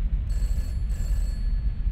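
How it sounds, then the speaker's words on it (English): A phone rings in the video game Peter's House, a steady on-off electronic ring over a low background hum. "Phone's ringing."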